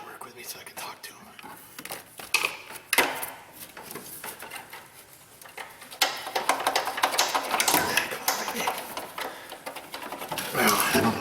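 A bolt is worked loose on the engine of a Dodge Grand Caravan 3.8 during an engine replacement, with irregular close mechanical clicks and clunks from tools, under quiet muttered talk.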